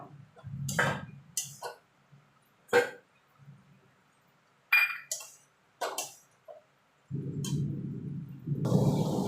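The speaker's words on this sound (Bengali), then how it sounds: "এবার ফুলকপি আলুটা দিয়ে দেবো দিয়ে ভালো করে মশলার সঙ্গে কষিয়ে নেবো" Cauliflower and potato are stirred and fried with spices in a pan, with the clean clinks and scrapes of a utensil against the metal, then a low, rushing sizzle that swells over the last couple of seconds.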